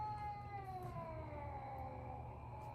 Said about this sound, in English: That's just the older cat that's mad that the baby exists.